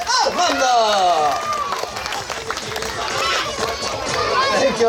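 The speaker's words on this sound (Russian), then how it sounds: "Аплодисменты" Clapping and cheering from an audience at a children's parrot show at a Turkish resort, greeting the runner-up parrot, dense and steady for several seconds with a crowd murmuring and voices calling out over it.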